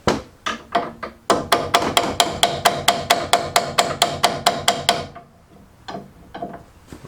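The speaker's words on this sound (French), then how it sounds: "On va prendre le petit marteau." Small hammer striking metal during clutch removal on a Peugeot with a TU5JP4 engine, about twenty sharp, close, evenly paced taps in a rapid run, then a pause and a few lighter knocks.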